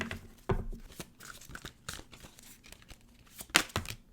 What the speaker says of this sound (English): let's go and grab a card for your advice